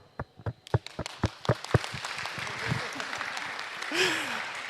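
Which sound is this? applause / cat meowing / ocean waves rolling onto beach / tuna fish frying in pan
applause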